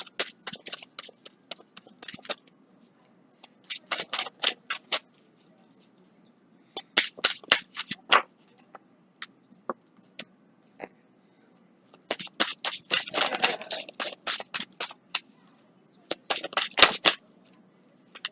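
Tarot or angel cards are shuffled and pulled in close, crisp bursts of riffling and flicking, with short pauses between rounds of shuffling.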